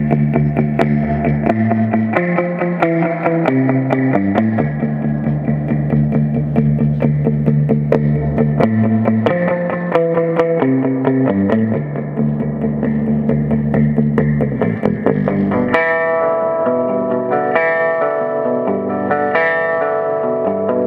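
A Fender Squier Vintage Modified Bass VI plays through a Silvertone 1484 amp with a little reverb. Sustained, distorted low notes ring out alone and change steadily, with brighter plucked passages near the end.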